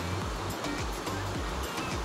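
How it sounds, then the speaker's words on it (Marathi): Water tipped from a wide plate into a pot of boiling chicken wade preparation, a steady broad wash of splashing and churning that runs continuously and fairly loud throughout. "ते आता परातीवरचंच पाणी आपण त्याच्यामध्ये टाकून घेऊया"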